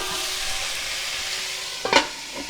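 Stir-fry noodles with chicken, vegetables and a dash of oyster sauce being stirred in a hot pan, a steady close sizzle with a brief louder scrape and clatter near the end.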